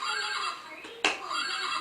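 A children's sound puzzle toy plays a recorded horse neigh, a bright, wavering whinny broken by a short sharp click, close and fairly quiet.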